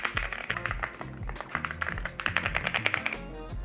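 Typing on a pricey computer keyboard costing about 3 million rupiah, with a quick, uneven run of close key clicks and taps and no speech.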